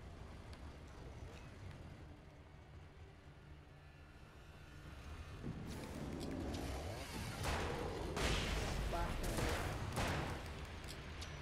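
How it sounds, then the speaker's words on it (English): Flashbang grenades going off in the horror video game Alan Wake, a quiet stretch giving way to several bright, sharp bursts in the second half, each with a hissing, ringing tail. "Flashbang again."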